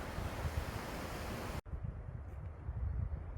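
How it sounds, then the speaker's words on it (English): Wind moving through trees along the Sunset Trail loop on Laguna Mountain near San Diego, a steady broad rushing hiss with a brief dropout partway through, no talking. "you can hear the wind in the trees and feel the cool breeze"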